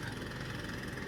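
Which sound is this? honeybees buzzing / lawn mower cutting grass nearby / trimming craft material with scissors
lawn mower cutting grass nearby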